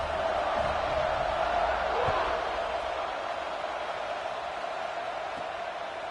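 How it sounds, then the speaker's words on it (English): A stadium crowd at an American football game keeps up a steady, loud roar and buzz after a score, a dense continuous wash of voices with occasional faint cheers rising out of it. "this crowd is buzzing after that last score"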